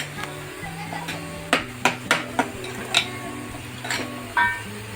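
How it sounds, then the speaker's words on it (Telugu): Mutton is mixed with chilli powder, salt and masala paste in a metal pot, a spoon knocking and clinking against the side in a run of distinct, fairly close taps over a low background hum. "కారం, ఉప్పు, ఈ మసాలా అన్నీ మటన్కి బాగా పట్టేటట్టు ఒకసారి బాగా కలుపుకోండి"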